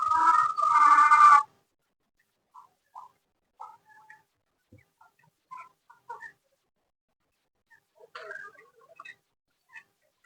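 Chickens in a cage give a few short, scattered clucks and soft calls at close range, following a brief louder sound at the start, with quiet gaps between them.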